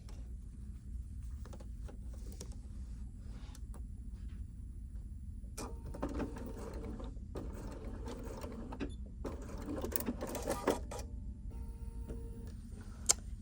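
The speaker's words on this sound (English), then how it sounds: "we're just going to sew with about a 1/2 inch seam allowance" A sewing machine stitches layers of fabric for a wristlet pincushion with a half-inch seam, running in a steady mechanical whir with ticking needle rhythm, pausing and restarting in bursts, close and fairly loud with no talk.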